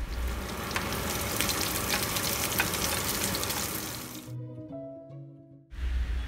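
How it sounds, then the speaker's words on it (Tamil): Finely chopped small onions frying in oil until golden for a tempering, a dense steady sizzle for about four seconds that breaks off briefly before resuming, no talk. "கோல்டன் கலர் வரைக்கும் நல்லா ஃப்ரை பண்ணிக்கணும்"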